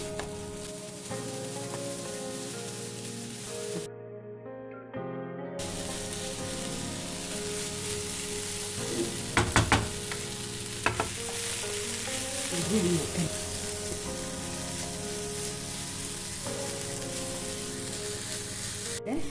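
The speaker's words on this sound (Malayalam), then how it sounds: "മിക്സ് ചെയ്യാം." A chicken mixture with coriander and spring onion is stirred in a hot pan, a steady close sizzle broken by a few scraping clatters of the spoon against the pan, with no talking.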